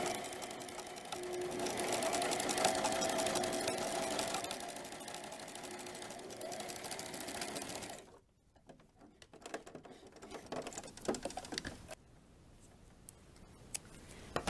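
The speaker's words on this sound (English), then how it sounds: "I'll just keep top stitching, and that will sew the back of the apron" Sewing machine top stitching an apron tie onto a baby dirndl apron panel, a steady loud whirring run for about eight seconds, then stopping into quieter fabric handling and a few short bursts.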